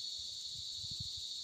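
Crickets on a cold evening at dusk, still light outside, make a steady, continuous high-pitched chirring drone at moderate level, with faint low rumbling beneath and no talking.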